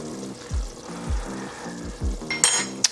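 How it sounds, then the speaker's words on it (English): Chili cheese pasta is stirred in a pot in a steady rhythm of about six scraping strokes, with a faint simmering sizzle beneath and a brief metallic clink near the end. "You do wanna make sure that you stir."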